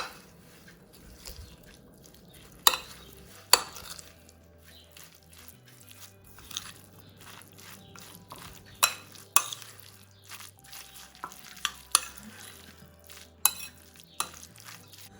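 A spoon stirs a yogurt sandwich mixture seasoned with black pepper and salt in a bowl, soft scraping with scattered sharp clinks and taps against the dish, close and quiet.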